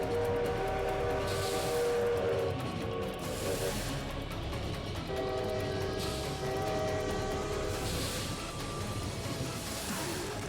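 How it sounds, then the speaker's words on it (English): In the video game Lobotomy Corporation, a train passes with a continuous rumbling, mechanical rail clatter and sustained tonal horn-like chords that come and go, loud and dense throughout without speech. "I would rather dodge the train on these surprisingly generous elevators."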